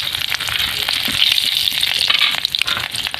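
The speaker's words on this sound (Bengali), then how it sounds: "এবার ওই তেলের মধ্যে অল্প একটু কালো জিরে আর কিছুটা চেরা কাঁচা লঙ্কা" Nigella seeds and slit green chillies crackle and sizzle in hot oil on lowered heat, a close, bright spitting hiss with quick popping bursts, no voices.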